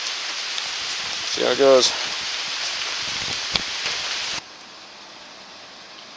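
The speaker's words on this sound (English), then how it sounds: "it's raining on and off pretty good" Steady rain hiss fills the background while a person briefly speaks, then the rain noise drops to a quieter level partway through.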